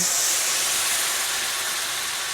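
Pasta water hits hot butter in a pan for cacio e pepe, giving a loud, continuous steamy hiss that stays even for a couple of seconds.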